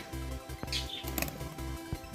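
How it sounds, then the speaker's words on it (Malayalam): Caged African parrots flap their wings in repeated short bursts, a rhythmic whirring flutter with a faint chirp mixed in, close by. "അപ്പോൾ ഈ കൂടിലും രണ്ട് കൂടിലും ആഫ്രിക്കൻ തത്തിയാണേ"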